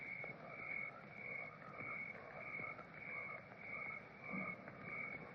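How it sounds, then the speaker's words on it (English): A bullfrog croaks at night in repeated low, pulsing calls, moderately distant and steady, set against a high shrill drone of crickets and other night insects. "Bullfrog. Makes a good watchdog, him and the crickets."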